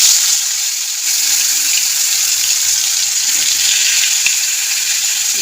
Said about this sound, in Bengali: তেলটা গরম হয়ে গেছে, এবার আমি মাছটা ছেড়ে দেবো।